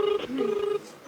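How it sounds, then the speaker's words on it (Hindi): A short electronic phone ring tone, a steady tonal buzz lasting under a second, fairly close and clear. "कॉल बज रहा है।"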